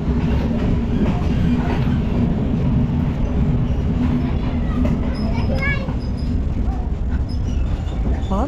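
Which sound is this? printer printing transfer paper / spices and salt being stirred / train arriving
train arriving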